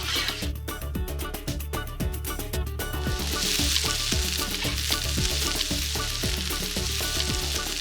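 Paella sofrito sizzles and fries steadily in a pan over a smoky wood fire, with scraping stirs and a dense crackling hiss throughout.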